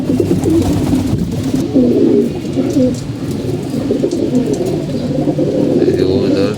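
Pigeons coo continuously in a loft, their low throaty burbling overlapping in a dense, steady chorus close by, with a faint higher chirp now and then.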